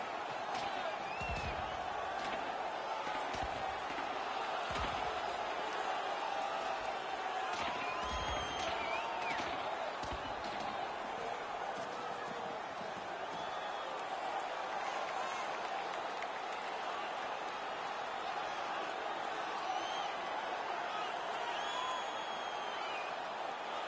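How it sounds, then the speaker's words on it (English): A hockey arena crowd on its feet cheering and applauding during a fight, a dense, steady roar of many voices with claps and whoops, fairly distant and continuous throughout. "The crowd is on their feet, and they're trying to give their teams a little spark."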